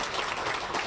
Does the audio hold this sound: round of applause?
yes